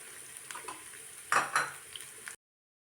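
Sliced ginger and garlic frying in hot oil with mustard seeds, a steady soft sizzle broken by a few sharper spatters and spoon-stirring scrapes against the pan, close and alone with no talking.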